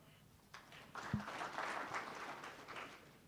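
Attendees at a GIS and Earth observation symposium clap together, soft and somewhat distant, building after a moment into a faint sustained round of applause.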